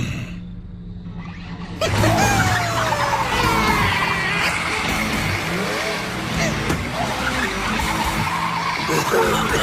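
A car engine roars in and tires screech through a long skid, loud and close, with rushing whooshes and a couple of brief vocal sounds over the noise.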